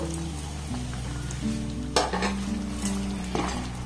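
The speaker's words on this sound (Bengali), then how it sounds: "তো এইভাবে একটু আমি লাল লাল করে ভেজে নেব" Gaja pastries deep-frying in oil, steady sizzle with a few sharp utensil clinks and scrapes against the pan, close, with a low hum underneath and no talk.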